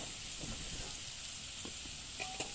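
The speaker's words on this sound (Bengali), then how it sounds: "একটু তেলের সঙ্গে ভেজে নেব" Spices sizzling in a little oil in a pan while cooking a Bengali loté fish posto dish, a steady soft frying hiss with a few light stirring scrapes, moderately quiet and close, with no talk.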